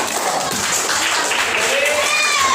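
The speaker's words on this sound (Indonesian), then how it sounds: "Tepuk tangan untuk kita semua" A classroom group claps together, a dense patter of many hands under overlapping voices, filling the whole short stretch at a fairly loud and even level.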